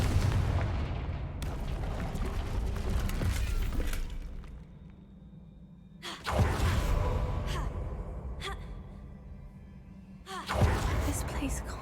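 In Hogwarts Legacy, the Confringo fire spell goes off in three heavy booming blasts, each followed by a fading roar and rumble, loud and close, with a voice speaking in game.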